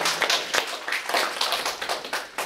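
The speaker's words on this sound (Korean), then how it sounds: "박수 한번 쳐주셔야 되는 거 아닌가요?" A church congregation gives applause at a Pasadena Presbyterian Church tenth anniversary, a loose, uneven patter of individual claps with distinct sharp slaps, moderately close.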